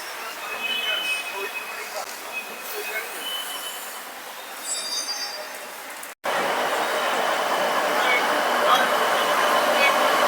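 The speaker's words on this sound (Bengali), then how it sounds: "আর এই হয়েছে মেট্রো" A Kolkata Metro train rumbles along steadily at a station, with metallic wheel squeal and a hard cut partway through, after which a louder, fuller rush takes over; a faint voice sits underneath.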